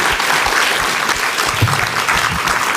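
Loud, steady applause from a seminar audience honouring a professor at the end of a session, the close, dense clapping of a full room carrying on unbroken.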